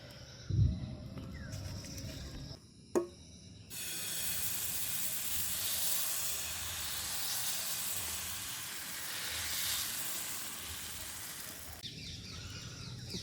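Egg poured onto a dosa on a hot oiled pan sizzles and puffs, a steady loud hissing sizzle that holds for about eight seconds after a couple of brief knocks, with no talking.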